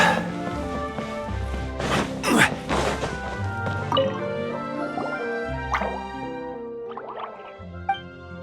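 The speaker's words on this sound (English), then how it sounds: "Oh, it sounds like a water droplet is on the second floor!" Water droplet dripping sounds in the Genshin Impact video game, a series of bright plinks and splashy drops over a soft musical background, some louder hits near the middle.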